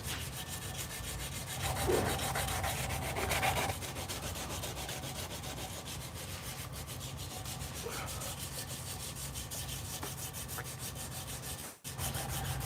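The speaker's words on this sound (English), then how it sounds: "we're going to do a little bit more sanding" Quiet, steady rubbing of sandpaper on wood, continuous with slight swells in intensity and a brief dip near the end.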